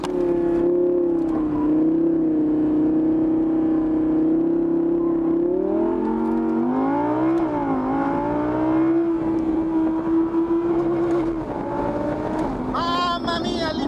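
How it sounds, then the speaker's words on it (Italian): An Audi R8 Spyder's V10 engine revs close up and loud, its tone rising and falling through repeated throttle blips before settling into a steady high drone. "Facciamo cantare il motore."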